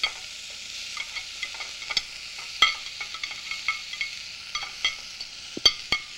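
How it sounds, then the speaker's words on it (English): Parboiled vegetables, including carrots, sizzling in a hot pot, a steady close frying hiss broken by scattered pops and the clack of stirring, with no talking. "Let's get it in the pot. That's nice and hot. See that sizzle?"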